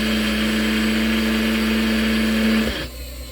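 A grain mill grinding sprouted buckwheat while running off a generator: a loud, steady motor whine with a strong droning hum that holds for about three seconds, then the pitch sags and the level drops as the load changes.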